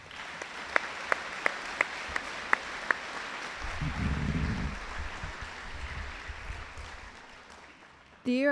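An audience at a school awards presentation applauds student award recipients, starting with a few sharp distinct claps that build into a steady round of applause, fading before a voice returns at the end.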